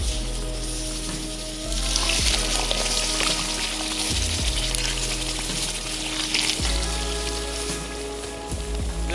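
Seawater poured on hot beach campfire ash bubbles and sizzles steadily, loud and close, with low hissing bursts and crackles throughout and no speech.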